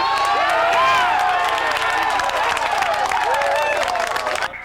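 A team of college football players applauds Michigan highlights on a TV broadcast, steady loud clapping and cheering from a crowded room that fades out at the very end, with voices mixed in.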